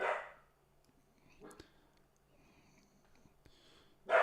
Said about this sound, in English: Now Maxi decided to join in on the barking.